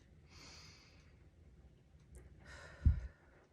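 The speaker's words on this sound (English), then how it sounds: "inhale through your nose, hold for a couple seconds, and then exhale, whether through your nose or through your mouth" Slow, deep breath drawn in through the nose and let out again, soft and close, with a faint breathy inhale, a pause, then a fuller exhale and a small nasal puff.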